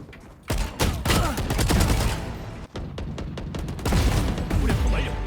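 Rapid bursts of gunfire crackle and boom in quick succession, loud and dense with brief gaps, like a chaotic firefight in Valorant, including the Arcane collector Vandal skin.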